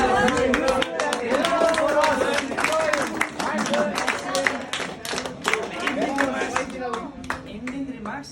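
Online yoga class participants clap together at the end of the session, a dense burst of many hands lasting throughout, with voices talking over the applause.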